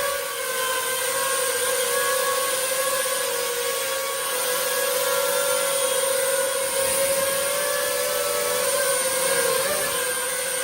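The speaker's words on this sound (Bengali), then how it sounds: "তো এখন একটু ড্রোনটা ফ্লাইং করে দেখি।" An XJ2 mini drone with brushless motors flying close by, its propellers giving off a steady, loud, high-pitched whine with a constant tone throughout.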